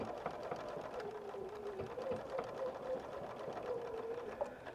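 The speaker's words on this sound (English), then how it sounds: "Again, we're going to back stitch." A sewing machine backstitches through a quilt, a steady close mechanical whir with rapid needle chatter running throughout at a fairly constant speed, without talk.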